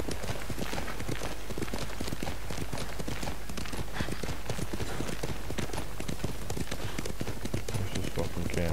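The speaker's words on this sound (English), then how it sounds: "These horses don't know how to fucking swim." Continuous rapid galloping hoofbeats from horses in Ghost of Tsushima, steady and close throughout, with talking over them.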